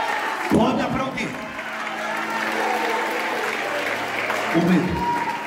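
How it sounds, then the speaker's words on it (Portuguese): Applause from a church congregation during a worship service, steady and moderately loud throughout. A few brief, deeper vocal sounds break through the clapping. "Pode aplaudir."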